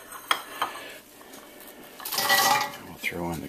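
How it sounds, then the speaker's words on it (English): Chopped carrots for vegetable soup clatter into an 8-quart cooking pot in a home kitchen: a few light clinks, then a brief rattling tumble of pieces and metallic knocks, close and fairly quiet. "We'll throw in the carrots."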